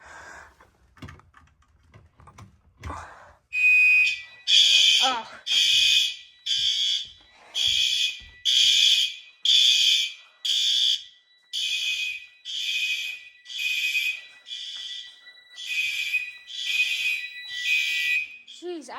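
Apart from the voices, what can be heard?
fire alarm horns sounding during a system test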